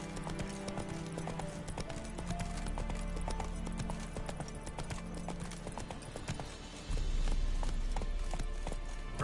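Geralt's horse Roach gallops in The Witcher 3, with rapid rhythmic hoofbeats over game ambience and music, growing louder and heavier toward the end.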